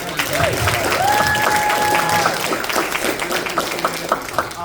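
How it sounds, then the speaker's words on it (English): An audience at a Power Rangers Wild Force convention panel in Atlanta applauds, a sustained patter of claps with voices rising over it and a few sharper individual claps toward the end. "Just a round of applause for like all the"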